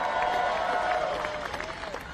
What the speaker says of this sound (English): Let me also give a big round of applause and welcome to our new White House interns.